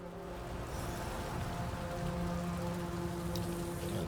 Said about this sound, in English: I like seeing like the rain fall on the armor as well.